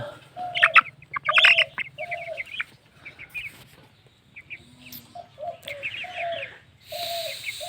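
Chicks and chickens give repeated short clucks and chirps in scattered bursts, close and clear, with quiet pauses between them.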